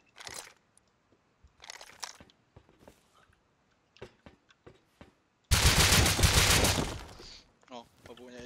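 In the Rust video game, one loud, sharp burst of rapid gunshots lasts about a second and a half, set between quiet stretches of casual talk and small clicks.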